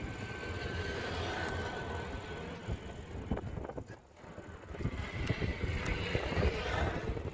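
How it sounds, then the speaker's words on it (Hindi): Suzuki Gixxer 150 motorcycle fitted with a new aftermarket exhaust, idling and revving with a steady, dense rumble that dips briefly midway before building again, recorded close in wind. "अब चलिए इसका एग्जॉस्ट नोट आप लोग को सुनाते हैं"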